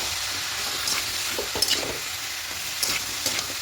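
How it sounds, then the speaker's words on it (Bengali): Vegetables with salt and turmeric lightly fried in a pan, a steady close sizzle broken by a few scraping stirs of the spoon, no voices. "একটু হালকা একটু ভেজে নেবো সব সবজিগুলোকে।"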